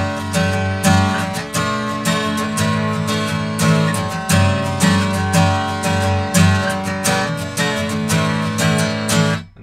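An acoustic guitar plays the intro riff of a song, with steady strummed and picked notes in a driving, even rhythm, close and clear with no voices.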